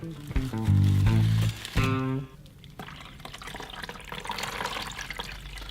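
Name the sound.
pouring liquid through a Colombo Tecni filter to clean it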